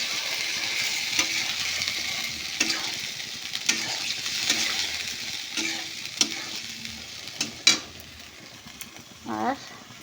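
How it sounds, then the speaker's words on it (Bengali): Shrimp and chopped tomato sizzle steadily in a pan while a utensil stirs, giving repeated scraping knocks every second or so over the frying hiss, with a brief louder scrape near the end. "দিয়ে ভালো করে মিশিয়ে নেব।"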